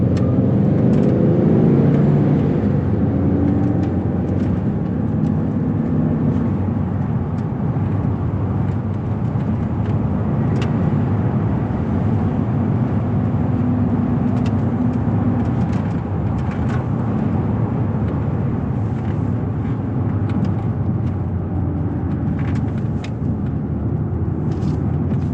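A 2007 Land Rover Range Rover on Cooper Discoverer AT3 all-terrain tires cruises at a steady road speed, giving a loud continuous low tire roar and engine drone that barely changes from start to finish.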